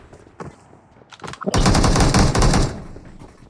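A loud, close burst of automatic gunfire from a video game roars for about a second after a few scattered sharper shots, then fades out.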